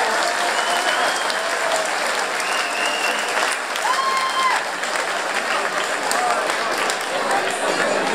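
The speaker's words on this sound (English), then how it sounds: "can we please have a round of applause for both boxers in that contest" A packed boxing hall applauds both fighters after a drawn contest between Darren Jones and Dean Whitby, sustained dense clapping from a large crowd with occasional whistles riding on top, steady and loud throughout.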